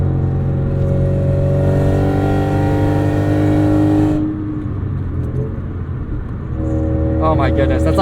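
A 1990 Acura Integra RS with about 400,000 miles, eBay headers and an eBay muffler, revving loudly at half throttle, a sustained raspy engine tone that drops off briefly and climbs again, with voices talking over it.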